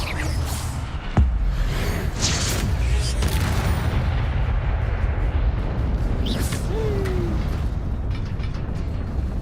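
A fire spell erupts in Hogwarts Legacy, a loud sustained roaring blast with a sharp boom at its start and a continuous whooshing rumble of flames that runs throughout without speech.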